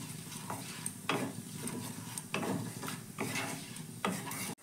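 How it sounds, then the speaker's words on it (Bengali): Whole cloves, cinnamon and cardamom fry in a pan, giving a steady crackle with four or five periodic scraping stir strokes about a second apart, close and fairly loud with no talking. "এবার মশলাগুলো একটু ভেজে নেব যতক্ষণ না মশলা থেকে সুন্দর একটা গন্ধ বেরোচ্ছে।"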